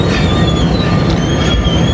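Tezgam express train overtaking the stationary Millat Express, a loud, close, steady rumble of wheels and carriages rushing past with metallic high-pitched squeal over the roar.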